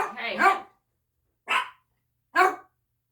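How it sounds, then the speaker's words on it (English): Dogs barking up close, one longer rough bark followed by two short sharp barks with silent gaps between them, loud and clear. "He messes with these dogs all the time."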